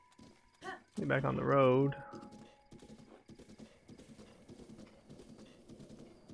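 Horse hooves clip-clop as a rider travels in The Legend of Zelda: Breath of the Wild, a steady patter of steps after a brief whinny, with someone talking over the start.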